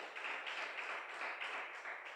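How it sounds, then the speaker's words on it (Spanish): Congregation applauding during a Bible study gathering, a steady, dense wash of many hands clapping at once, moderately distant and even throughout with no voices on top. "Démosle un fuerte aplauso al Señor, hermano."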